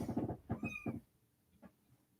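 Three-week-old kittens meowing indoors: a quick run of several thin, high mews close by, then a pause and one fainter mew, with no talking.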